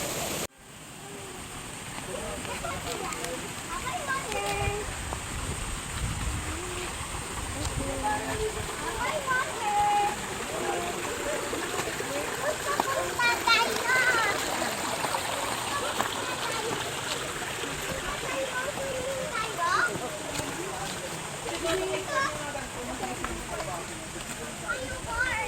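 River water at Balempalis Spring rushes and splashes steadily for the whole stretch, a continuous broadband wash close by with no clear pauses.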